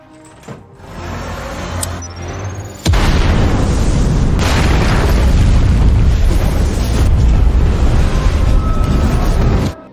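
Bombs detonate throughout a house in an action film: after a quieter lead-in with a brief whoosh, a huge boom erupts into a sustained, roaring rumble of blasts and debris that stays loud for several seconds.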